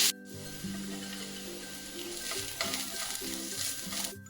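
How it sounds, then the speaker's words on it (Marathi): Onion and grated coconut fry in two spoons of oil, giving a steady close sizzle with scraping and stirring on top and brief louder bursts as the mixture is moved around the pan. "2 चमचे तेलावर कांदा खोबरे चांगले भाजून घ्यायचे."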